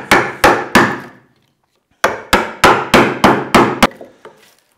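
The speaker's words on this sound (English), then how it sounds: "Good sharp chisel and that material will be out of there pretty fast." A sharp chisel is struck hard into wood while cutting a workbench joint: three loud, close blows, a pause, then six more in quick succession, each a crisp knock.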